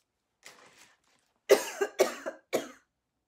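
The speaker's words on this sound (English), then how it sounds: "Whatever air I inhaled made me cough." A soft throat sound, then a burst of four sharp coughs in quick succession, close by with no talking.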